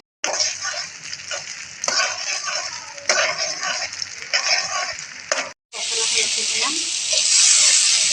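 Chopped onion fries in hot oil for a chicken curry, giving a steady, close sizzle with stirring scrapes throughout. It breaks off for a moment, then returns louder and hissier.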